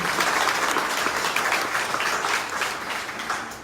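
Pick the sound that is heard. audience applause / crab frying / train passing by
audience applause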